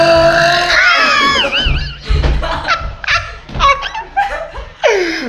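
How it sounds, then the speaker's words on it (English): A loud, drawn-out burp rumbles out near the microphone, mixed with laughter and giggling from people close by, followed by a few more voiced grunts and laughs. "that was the ultimate burp right there"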